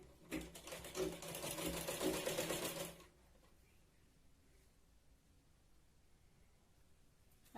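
A sewing machine runs a straight seam on a Katori blouse in one close, continuous whirring burst of about three seconds, followed by a quiet room.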